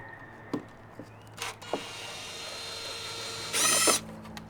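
A power tool whirs in short bursts while removing stripped screws, with a few sharp clicks and knocks between spins and a longer, louder burst near the end.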